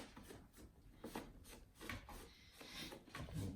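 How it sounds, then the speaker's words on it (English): Rag rubbing old grease, sand and dirt off the big pedals of a Kingsong KS18L electric unicycle, a close series of rhythmic scrubbing strokes, fairly quiet and steady, with no talking. "use this here rag to wipe off the old grease and all the sand and dirt"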